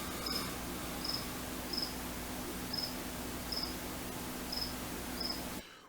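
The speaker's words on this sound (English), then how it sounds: "I want to kill that cricket" A cricket chirps in short, evenly spaced bursts about once every second, seven in all, clear and fairly close against a steady low outdoor hum on a summer evening.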